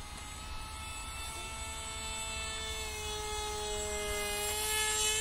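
An RC model jet, a Saab Ja-37 Viggen, flies overhead with a steady high whine and layered tonal hum that holds and slowly grows louder over a few seconds, heard outdoors at a distance.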